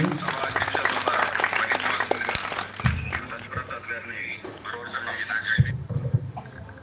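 An audience applauds at a stage event for Ambedkar's 132nd birthday, with a burst of clapping rising and fading while people talk over it.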